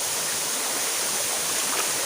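Panindingan Falls pours down into a flowing stream, a dense constant rushing roar of water, loud and close, with no voices over it.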